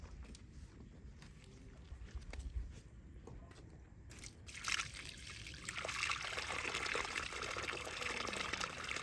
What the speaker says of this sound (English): to pour it gently in the sieve